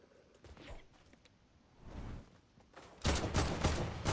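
Gunfire crackles in a shooter video game tournament match, scattered shots and whooshes early, then a dense, loud burst of rapid firing through the last second, with no talk.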